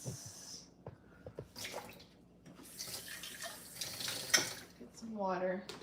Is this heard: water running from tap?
yes